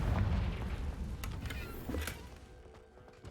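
A Confringo blasting spell goes off in the Hogwarts Legacy video game: a heavy booming explosion that rumbles and fades over a few seconds, with sharp crackling bits near the end.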